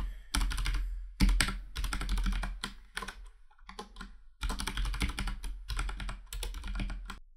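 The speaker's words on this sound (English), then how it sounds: "Now we just want to type in a password." A password is typed on a computer keyboard in bursts of rapid, close key clicks separated by short pauses, with no voices.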